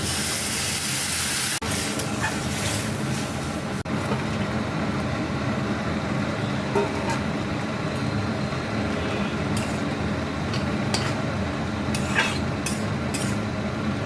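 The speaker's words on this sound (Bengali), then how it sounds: "এবারে দিয়ে দিচ্ছি জল।" Water is poured into a hot frying pan of sautéed greens and vegetables for a puti fish dish, giving a loud, steady sizzling hiss that fills the whole stretch with a sharp burst near the start.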